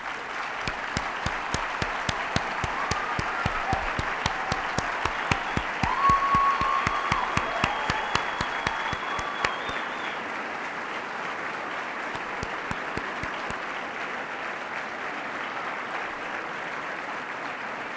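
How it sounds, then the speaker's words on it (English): A room full of people at a UCF white coat ceremony applauds: steady, sustained clapping for about ten seconds, fading into a quieter hall murmur. "give you a single hand of applause for all of you"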